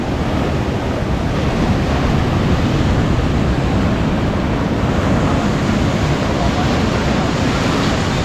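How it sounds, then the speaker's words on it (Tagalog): Loud, continuous roar of strong ocean surf at La Union, Philippines, with constant wind rushing over the microphone, no distinct breaks between waves. "Lakas pa rin ng alon."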